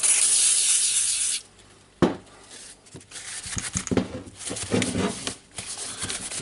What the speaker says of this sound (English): I'll rub all the tool with it.